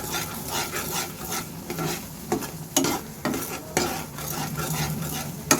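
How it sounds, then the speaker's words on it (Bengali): A spoon stirs and scrapes gujiya filling flavored with cardamom powder as it dries in a pan, with rhythmic rasping strokes, occasional metallic clinks and a low sizzle underneath, close up with no voices. "এখানে একটু এলাচ গুঁড়ো দিয়ে দিয়েছি স্মেলের জন্য এটাকে ভালো করে শুকিয়ে শুকিয়ে নেড়ে নেব"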